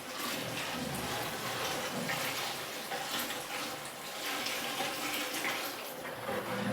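A steady stream of water pours and splashes into a cooking pot for chicken biryani, continuous and fairly close, with no talking.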